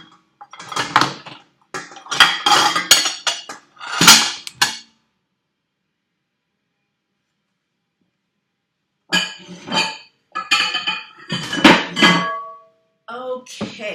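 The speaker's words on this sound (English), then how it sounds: "I'm about to get my bowl really quick." Dishes clinking while a bowl is fetched: bursts of ceramic and cutlery clatter close by, a long quiet gap, then more knocking and clinks.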